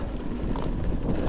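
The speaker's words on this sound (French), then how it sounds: "Là on a le droit à un bon vent de face, ça." Strong headwind buffeting a cyclist riding along the Deûle, a continuous loud rush of wind noise roaring across the microphone.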